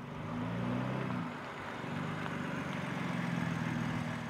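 A BMW X4 M Competition with its 3-litre inline six-cylinder engine rumbles steadily through a sports exhaust, a close, even, low burble that holds for several seconds with slight swells in level.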